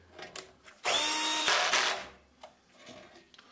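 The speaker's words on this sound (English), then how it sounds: "I'm just gonna tighten these so they don't rattle" A power drill tightens screws on a belt sander rescued from a scrapyard in one loud, whining burst lasting about a second, with quiet handling clatter before and after.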